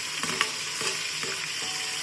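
Oil sizzles steadily in a pan as tomato and green chili are sautéed, while a spatula scrapes and stirs a few times, close and fairly loud, with no voices.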